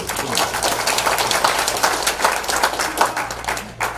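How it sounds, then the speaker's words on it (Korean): Applause from the crowd at a Houston rally of Korean residents, a dense wash of many hands clapping at steady, moderate loudness for several seconds. "박수 치세요"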